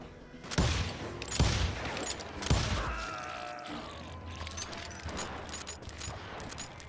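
Gunfire in the Wild West shooter Call of Juarez Gunslinger: three loud, booming shots roughly a second apart, followed by a rumbling, echoing game soundscape with no talk.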